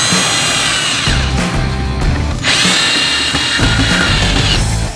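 A power drill running loud and close while installing lights near water, the motor whining in bursts with a brief pause midway, rough grinding texture underneath and no speech.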